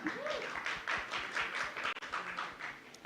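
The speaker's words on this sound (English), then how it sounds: "A big round of applause for him." An audience applauding at a film release event, a dense wash of clapping heard at a distance and fairly faint, with a few sharper taps standing out.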